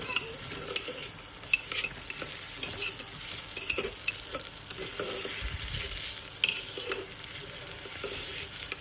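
Rice fries in ghee in a pan over a raised gas flame, giving a continuous close sizzle broken by scraping stirs and light clinks of the spoon against the pan, with no talking.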